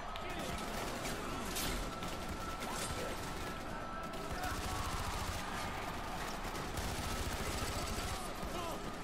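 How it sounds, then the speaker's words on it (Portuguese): Gunfire in the Far Cry 4 video game, dense bursts of shots and fusillades rattling continuously through the whole stretch, loud and busy, with some talk mixed underneath. "Nem vê de onde tá vindo o tiro."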